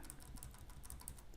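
Keys on a computer keyboard are tapped in a quick, light, irregular run of clicks, faint and close, with no voices.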